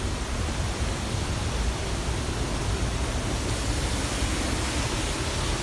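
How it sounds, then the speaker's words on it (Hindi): A lower waterfall by a cave near Antalya roars as a dense, unbroken hiss of rushing water, loud and steady with no pauses and no voices over it. "पानी का शोर आ रहा है बहुत ज़्यादा।"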